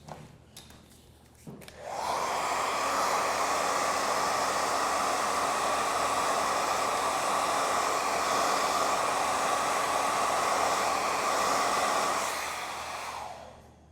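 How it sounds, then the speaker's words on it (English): A blow dryer switches on after a couple of seconds of faint handling noise, then roars steadily at close range before winding down at the end. "using the blow dryer helps give it a little bit of that softer texture"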